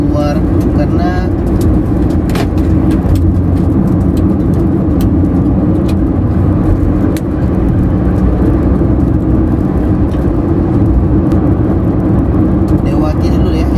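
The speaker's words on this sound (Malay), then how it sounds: "Kereta sudah mulai ramai, kereta sudah kembali normal keluar" Steady road traffic on a Malaysian road during lockdown, including a large lorry, heard from inside a vehicle as a continuous low engine and tyre rumble with a constant level throughout.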